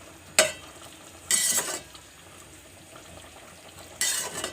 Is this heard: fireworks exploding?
no